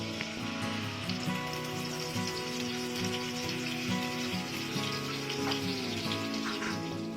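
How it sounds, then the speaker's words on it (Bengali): Spice paste fries in half a cup of white oil heated over medium heat in a wok for an Afghani egg curry, giving a steady, soft, close sizzle that runs throughout without talk. "মিডিয়াম হিটে তেল গরম হয়ে গেলে এর মধ্যে মশলার মিশ্রণটা দিয়ে দিচ্ছি।"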